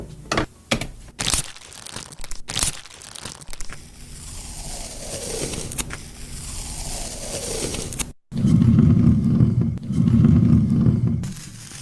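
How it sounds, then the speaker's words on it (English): Crinkling paper handled close up as Foley, with sharp crackles and crumples in uneven bursts and a denser, louder rustling stretch near the end. "that sound of that crinkling paper, that is Foley"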